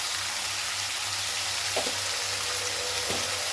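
Steady sizzling of potatoes with turmeric frying in a hot pan, a continuous crackling hiss with a couple of faint clinks, no voices.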